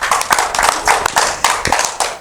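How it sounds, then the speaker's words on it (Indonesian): Clapping at an anniversary event for Robinsar-Fajar in Indonesia, with sharp individual claps from a small group beating in a quick, uneven rhythm, close and fairly loud. "Tepuk tangan dulu"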